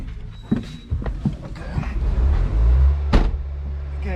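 A Bobcat strains on a chain to pull a truck's radiator support free, bringing a few sharp knocks and clanks, then a rising, heavy low rumble and a loud bang near the end.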